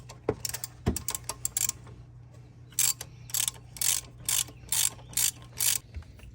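A ratchet clicks in quick, close bursts as an E10 reverse Torx bit works seized bolts loose on a Chevy Sonic water pump, with a low steady hum underneath.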